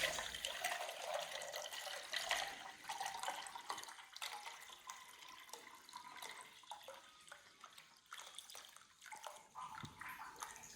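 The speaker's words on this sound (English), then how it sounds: "it is pulsing and it runs from a trickle into pretty much a solid stream" Water surges from a pipe into a container in a pulsing flow, swelling from a trickle to a near-solid stream and back, steady and close with no talking.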